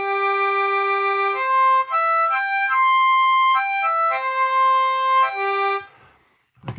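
An out-of-tune Trochilus harmonica plays a run of wavering, reedy held notes that shift pitch in steps, loud and alone, then cuts off into a brief near-silence with a small click at the end.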